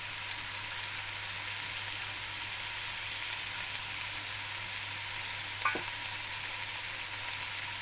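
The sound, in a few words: stirring okra frying in a pan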